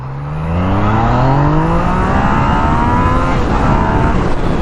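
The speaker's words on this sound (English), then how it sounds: "We're gonna get one more first gear run up to power." A 2016 Yamaha FZ-09 motorcycle pulls hard in first gear, its engine note rising quickly and loudly in pitch in a single continuous run up through the revs.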